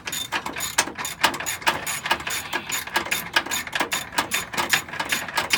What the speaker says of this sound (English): I like to get the hardest bolts out first, which is what I'm doing.